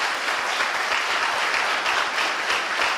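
Steady, dense applause from a church congregation during a celebration service, loud and continuous with no voices over it.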